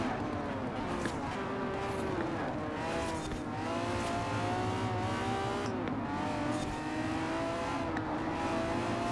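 A Lamborghini Diablo GTR in Forza Horizon 4 drives a track lap, its engine rising and falling through corners in a continuous, fairly faint drone, with possible brief tyre noise and no talk.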